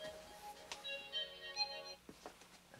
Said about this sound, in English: It's my phone reminding me of something.